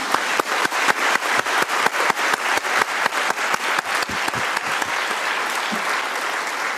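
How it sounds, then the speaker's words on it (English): An audience at the closing session of a United Nations civil society conference in Nairobi applauds the planning committee, starting with loud rhythmic clapping in unison at a brisk, even beat before it loosens into continuous mixed applause. "May we please give them a round of applause."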